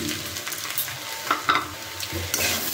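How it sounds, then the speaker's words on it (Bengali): A semolina and fried egg mixture is stirred in a hot pan, with soft continuous frying sizzle under repeated scraping strokes of a spatula, close up and with no speech. "আবার একটু নাড়াচাড়া করছি। যতক্ষণ না পুরোপুরি ঝরঝরে হচ্ছে কিন্তু নাড়াচাড়া করে যেতে হবে।"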